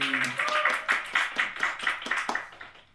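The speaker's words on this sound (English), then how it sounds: "A round of applause." Scattered hand claps ring out in a loose, rhythmic burst, mixed with cheering voices at the start and thinning toward the end.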